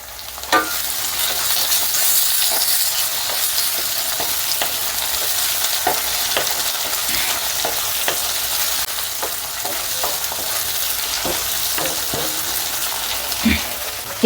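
Half a medium tomato goes into a hot pan while cooking bisi bele bath; a steady, loud sizzle of frying fills the whole stretch, dotted with occasional sharp clicks and scrapes of stirring.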